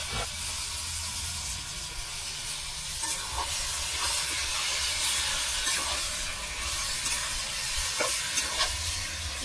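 Marinated chicken hits a hot pan for chicken kosha, giving a steady, loud broadband sizzle and hiss that runs unbroken, with a few small pops and crackles rising above it.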